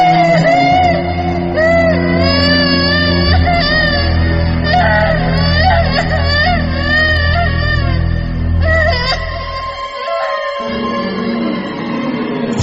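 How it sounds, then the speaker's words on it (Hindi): A child crying and wailing in a drawn-out, tonal voice, loud and close, running almost continuously with wavering pitch over a low rumbling bed before breaking off and trailing into quieter sobs near the end. "किसी बच्चे के रोने की आवाज थी।"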